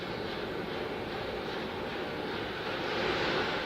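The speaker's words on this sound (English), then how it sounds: "And you can hear the APUs." Auxiliary power units on the core stage of NASA's SLS rocket run during the Artemis I launch countdown, giving a steady, distant roar and rush with faint chugging, swelling slightly toward the end.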